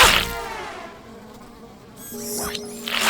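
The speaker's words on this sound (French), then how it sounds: "Hé Horace, pourquoi les mouches aiment-elles les ordures?" Flies buzz around garbage in a cartoon setting, a steady insect drone that swells loud at the start and end and dips quieter in the middle.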